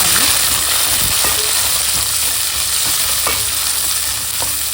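Onions sizzle steadily in a hot pan while a utensil scrapes and stirs them every second or so, producing a continuous close frying hiss with light periodic clicks.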